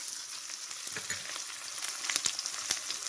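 Onions frying in oil in a pan, a bright continuous sizzle with a few quick stirring scrapes, close and steady.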